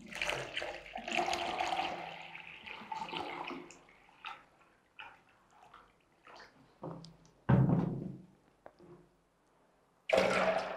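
Water poured from bottles into a big jug, gurgling splashy pours in a few bursts separated by quieter gaps and small clunks of handling, close up and with no talking.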